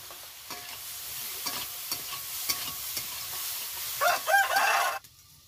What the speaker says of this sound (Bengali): ফুলকপিটা দেখো একটু নাড়তে নাড়তে হাফ ভাজা ভাজা হয়ে যাবে